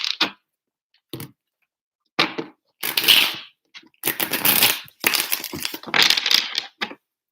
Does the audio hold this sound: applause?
no